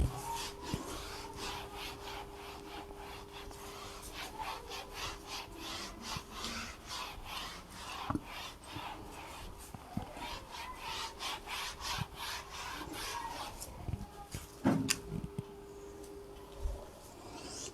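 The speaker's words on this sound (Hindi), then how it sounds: "तो मैं इसे रब कर देता हूं" A duster rubs writing off a classroom board during a class 12 maths lesson, making steady, repeated scraping strokes with a dry, woody rasp. The strokes are close and moderately loud, and nobody speaks.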